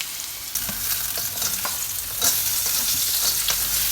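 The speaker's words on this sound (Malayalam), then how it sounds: "നമ്മുടെ ഉള്ളിയൊക്കെ വഴന്ന് നമുക്കിത് ഇതിനകത്തേക്ക് ചേർക്കാം" Green tomato stirred into sautéed onions in a hot pan, a steady close sizzle of frying with scraping stir strokes recurring throughout, no voices.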